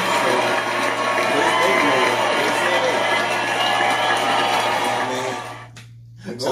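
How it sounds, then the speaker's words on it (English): A loud crowd cheers and shouts continuously, with whoops and applause-like roar, before dropping away near the end. "Round of applause for you, Tasha"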